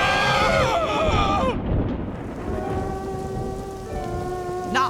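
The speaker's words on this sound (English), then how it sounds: "Now it's raining." Steady heavy rain hissing with a deep rumble of thunder, close and loud, while brief tonal vocal sounds rise at the start and end.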